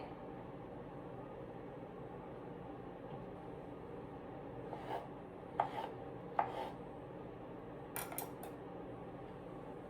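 A knife slices through a small piece of mango, giving a few quiet, separate cutting taps over a steady low background hum.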